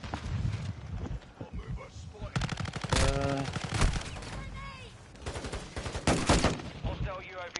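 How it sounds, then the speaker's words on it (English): Rapid automatic gunfire in a Modern Warfare 3 match, loud bursts of shots in quick rhythm mixed with clattering effects, with voices shouting and talking throughout. "Taking fire. No! Taking effective fire."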